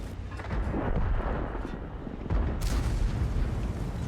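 Tank cannon fire in World of Tanks comes as heavy deep booms, one rolling blast followed by a second sharp shot about halfway through, loud and close with no talk.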